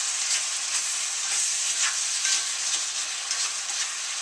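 Chicken lo mein stir-fries in a hot wok with a loud, continuous close-up sizzle that rises and falls as the noodles are tossed.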